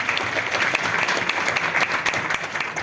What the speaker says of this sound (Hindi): उनके लिए एक बार जोरदार ताली दो।